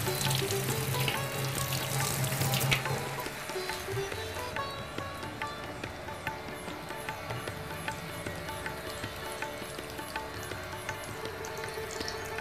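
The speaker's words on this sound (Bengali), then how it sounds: "দে, আমি হাতটা ধুয়ে নিই তাহলে।" A kitchen tap runs strongly over hands being washed for about three seconds while cooking oil heats for chhanar jhal, then the rush of water stops and a softer, steady background with light clinks continues.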